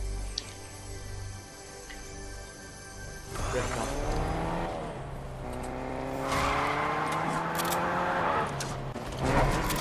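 Car engine in the Fortnite video game, revving and rising in pitch with tire screeches and skids, loud and continuous over a low game soundtrack.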